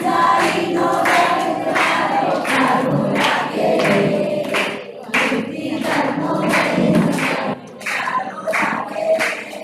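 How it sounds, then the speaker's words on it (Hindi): An audience at a religious discourse gathering bursts into steady applause, many hands clapping in a dense, continuous patter with brief dips and a few shouted voices, filling the hall for several seconds. "तालियों के साथ अनुमोदना करें उनकी"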